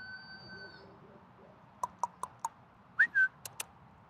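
A person gives a few short, sharp whistles to call dogs outdoors, followed by a pair of longer rising whistles, fairly close against quiet background noise.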